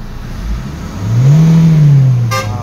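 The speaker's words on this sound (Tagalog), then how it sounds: "Okay, so third time engine rev." The engine of a 2017 Hyundai Tucson automatic, just repaired after throttle fault codes, revs up to about 5,000 RPM, one smooth rising and falling run-up, loud and close, with no speech.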